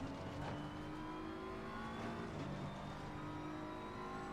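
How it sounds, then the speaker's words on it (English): Race car engine at full throttle in Assetto Corsa Competizione on the Nordschleife, a loud continuous roar with rising harmonic tones as the car accelerates out of the Carousel, steady and close with no voices. "as soon as it starts to open up, we floor the car"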